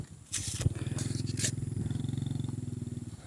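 Motorcycle with city-style road tyres on a muddy forest trail near Gua Musang, its engine revving in a steady throbbing pulse as the rear tyre spins, loud and close with brief higher scraping bursts near the start.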